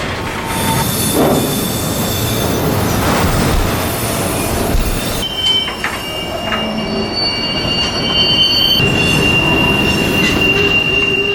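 Freight train Q452 rolling slowly through the Reynolds Street crossing in Plant City, with loud, continuous wheel squeal and grinding rail noise close by, steady throughout with shifting high-pitched screeches and no voices.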